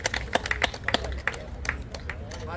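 Scattered, uneven clapping from a small crowd at a Latvian youth shore spinning fishing championship awards ceremony, with claps overlapping in loose bursts and murmuring voices underneath.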